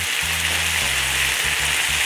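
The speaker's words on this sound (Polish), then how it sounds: "Tu sobie smażę warzywka na jutro do pracy." Steady, dense sizzling of vegetables frying in a pan, close and loud, with a low hum underneath and no talking.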